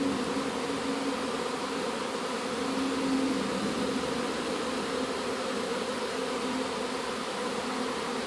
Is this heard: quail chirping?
no